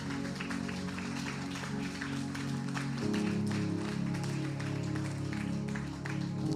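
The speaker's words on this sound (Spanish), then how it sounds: "Damos un aplauso al Señor." Church congregation applauding during a worship service, a steady wash of many hands clapping mixed with sustained music tones, with some indistinct voices in the background.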